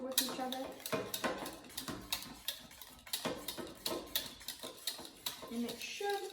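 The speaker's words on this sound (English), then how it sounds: "Now what we want to do is take the bowl and just give it a light whisk" Wet ingredients and sour cream whisked in a bowl for syrniki, Russian cottage cheese pancakes, giving a steady run of light clinking, scraping strokes at a quick regular rhythm, close by.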